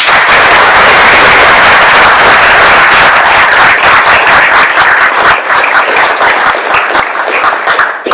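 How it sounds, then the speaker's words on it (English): An audience at a university human rights lecture applauds: dense, sustained clapping from many hands, loud and close, thinning slightly toward the end. "Another round of applause for them, please."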